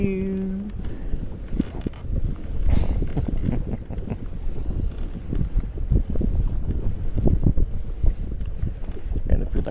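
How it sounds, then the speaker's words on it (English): Wind across a lake buffets the microphone in a steady rushing roar, with occasional bumps and splashes of a small motorized kayak on the water. "And here comes the wind again, blowing my kayak across the lake."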